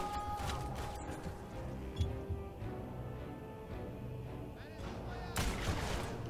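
Repeated pistol gunfire in the shooter video game Wanted: Weapons of Fate, with sharp shots, crashes and impacts scattered across a dense, busy game soundscape; heavier bursts mark the start and end.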